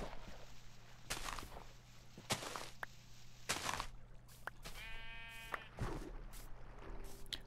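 Sheep bleating in the video game Minecraft, a few short bleats spread over quiet game ambience with scattered footsteps and clicks.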